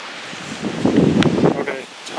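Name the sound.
wind shaking a tree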